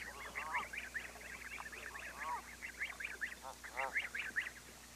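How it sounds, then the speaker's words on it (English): A flock of Canada geese honks in quick repeated calls, a busy overlapping chorus at moderate distance over a low steady hum. "The Canada geese parents are like sentinels guarding their feeding flock"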